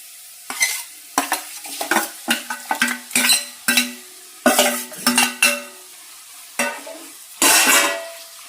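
Pork liver fries in a pan on low flame, with repeated loud scraping stirs and clanks of a utensil against the pan over a soft sizzle, in bursts about every half second.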